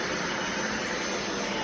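A drepre cordless 580W stick vacuum runs on its minimal setting across LVP flooring and carpet, giving a steady, fairly quiet airy whine and rush with no voices.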